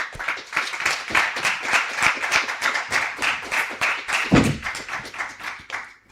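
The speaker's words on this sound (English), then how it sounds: "Another round of applause." Workshop attendees give a round of applause after an academic talk. The clapping is fairly close and distinct, with individual claps audible in an uneven rhythm and one louder thump partway through, lasting about six seconds.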